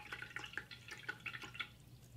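Paintbrush swished and rinsed in a cup of water while watercolor painting, giving quiet repeated drips and light splashes in an irregular rhythm, close and soft with no talking.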